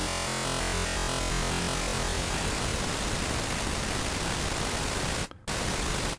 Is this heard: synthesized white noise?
yes